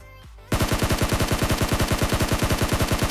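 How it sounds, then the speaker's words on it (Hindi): Rapid automatic gunfire in a battle royale video game, an M4 or Scar style rifle, rattles out in a fast, loud, even burst lasting nearly three seconds after a brief quiet lead-in. "सामने भैया फायरिंग हो रही थी"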